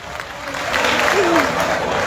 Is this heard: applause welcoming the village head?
yes